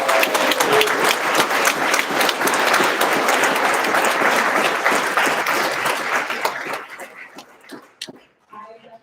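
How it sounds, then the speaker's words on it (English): Sustained audience applause at a keynote address, loud and dense for several seconds before thinning out and fading into scattered claps. "So let's give Taifa another round of applause."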